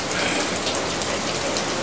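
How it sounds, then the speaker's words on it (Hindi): Heavy rain pours down outdoors in Lahore as a dense, loud, unbroken hiss of drops hitting surfaces, steady throughout with no voices. "अब बारिश तेज चल रहा है ना"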